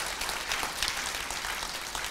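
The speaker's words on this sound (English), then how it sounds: "Let's give them another big round of applause" Applause from a church congregation, a steady, dense wash of clapping that fills the room evenly for a couple of seconds without letting up.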